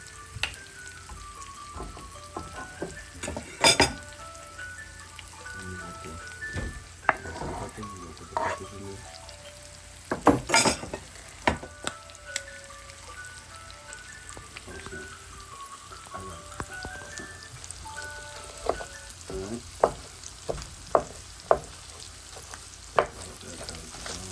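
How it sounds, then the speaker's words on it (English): Onions frying in a pan for a Trinidad-style cod fish dish, a continuous crackling sizzle like light rain, dotted with sharp scraping and clinking stir strokes, close up with no speech. "Alright, so we got the onions. Fried it up in there."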